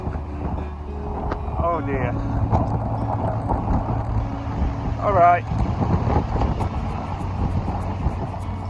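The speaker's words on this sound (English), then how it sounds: "oh god, it's so windy." Strong wind buffets the microphone on the Lancashire coast near Lancaster and Morecambe, a steady low roar lasting throughout, with a person talking briefly over it.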